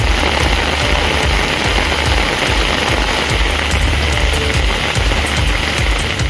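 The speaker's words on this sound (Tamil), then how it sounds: "பல்வேறு பகுதிகளில் மழை கொட்டி தீர்த்தது" Heavy rain pours in the Tharangambadi area of Tamil Nadu, a loud, dense and steady wash of falling water that fills the whole stretch with no voices.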